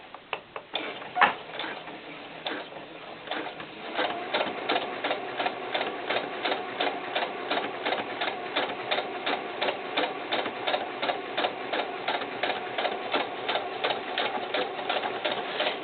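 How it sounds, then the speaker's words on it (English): A sewing machine stitches a doll skirt in a steady, rapid mechanical ticking rhythm, starting with a few hesitant taps and then running continuously up close. "we're going to just sew."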